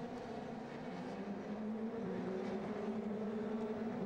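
Formula Renault single-seaters pulling away from the start at the Val de Vienne circuit, a steady wash of engine roar with a droning low tone, loud and continuous without a break.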